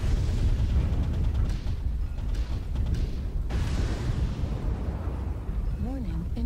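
Heavy rumbling missile blasts in a mech combat video game pound close and loud in overlapping bursts, followed by a short synthetic tone near the end.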